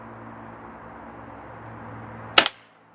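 A single sharp shot from a Webley Nemesis .177 CO2 air pistol fired through a chronograph, one loud close crack with a short decay after a stretch of low steady room hum.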